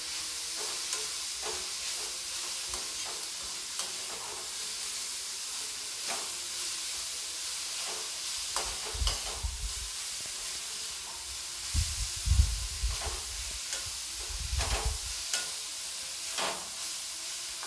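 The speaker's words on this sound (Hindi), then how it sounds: "मैं सब्ज़ी को अच्छी तरीके से मिला दूंगी" Vegetables with hing and spring onion are stirred and mixed in a hot frying pan, giving a soft steady sizzle with intermittent louder scraping thumps of the spatula toward the end; no talking.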